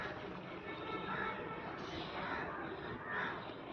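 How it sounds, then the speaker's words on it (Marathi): Crows caw faintly in the distance where food is set out for animals, their harsh calls rising now and then over a low, steady background hum. "हे कावळे येऊन बसले"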